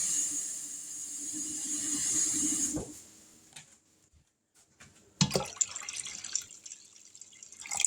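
Tap water runs steadily into a cooking pot being filled halfway, a continuous close hiss and splash that cuts off, followed by quiet clatter and a fresh burst of handling and water noise.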